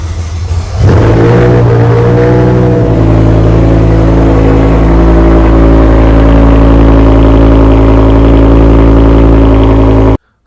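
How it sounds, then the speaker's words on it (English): A powerful V10 car engine cranks and fires, revs up loudly, then settles into a deep, steady idle that cuts off at the end. "I'm gonna go ahead and fire it up."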